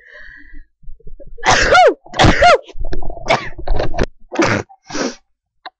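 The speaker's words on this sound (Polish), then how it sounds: "zobaczyliście po raz pierwszy jak kicham" A woman sneezes twice in quick succession, loud and close, followed by a few sniffs and breathy exhalations.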